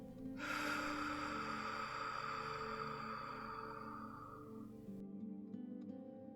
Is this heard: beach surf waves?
no